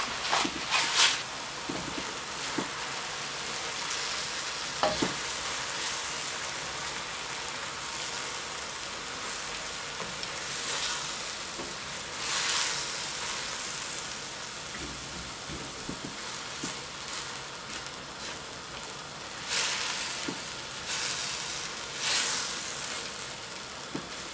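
Zucchini noodles sizzle in a pan with a pinch of Himalayan pink salt, giving a steady, close hiss of frying that runs throughout, broken by occasional clicks and scrapes.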